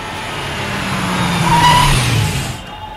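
A car engine drones steadily, swelling louder as the vehicle rolls by, then tapers off and fades as it slows to a stop, close and without talk.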